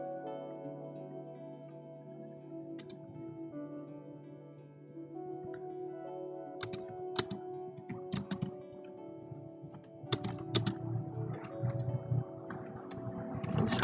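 Keys tap on a computer keyboard while text is entered in Microsoft Word, starting sparse with scattered clicks and then building into quicker, busier bursts of typing, close and fairly quiet.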